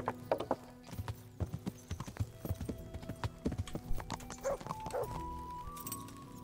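Horse hooves clip-clop in the medieval video game Kingdom Come: Deliverance, a run of sharp irregular hoofbeats with a brief neigh and some mechanical clatter, moderately close and without talk.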